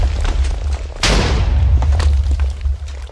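A TNT cannon fires in Minecraft: one sudden booming explosion about a second in, followed by a sustained rumbling roar over a constant low background, loud and close with no talk.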